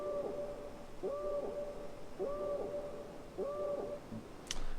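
The Citadel Squawk welcome-home sound effect from an alien ship in a video game repeats four times in an even rhythm, an owl-like hooting call played faint and alone.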